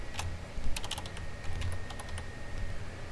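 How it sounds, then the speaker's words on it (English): Typing on a computer keyboard while entering a first and last name into a Microsoft Access new-student form, an irregular run of close, crisp key clicks with no talking. "it'll take you down to the first name field where you can type in Gene"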